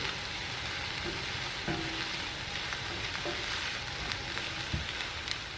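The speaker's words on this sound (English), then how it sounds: "We're going to go ahead and add in some minced garlic, and we're going to let that saute for just a moment." Minced garlic and wilted spinach sauté in a pan, a soft continuous sizzle and crackle with a few faint utensil clinks, fairly quiet and steady with no talking.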